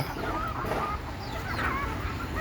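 Native chickens cluck steadily in a poultry shed on litter bedding, a continuous busy flock murmur with a few higher chirps over a noisy background, no talk.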